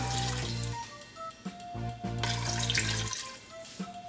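Water pours and splashes into a metal pressure cooker for sambar, with clinks and faint clatter under the running stream.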